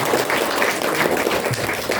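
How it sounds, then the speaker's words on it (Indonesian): An audience at an Indonesian training session applauds steadily, a dense, sustained wash of many hands clapping at once, loud and close throughout. "Tepuk tangan untuk kita semua"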